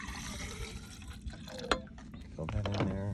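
Water trickles and splashes as it's poured into an insulated water bottle, the gurgle rising in pitch as it fills, with quiet talk nearby.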